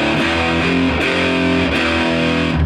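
A heavily distorted electric guitar plays a short, loud, chugging riff, with a few sharp note changes in quick succession.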